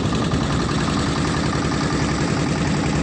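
Boat engine droning steadily during a boat ride at Honnavara, a loud, close, unbroken rumble with no pauses.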